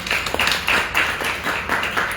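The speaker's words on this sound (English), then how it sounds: "Let's give Daraji a round of applause." A gathered audience claps for a regular Sunday-morning attendee, with several bursts of applause swelling and easing in an uneven rhythm, close and fairly loud.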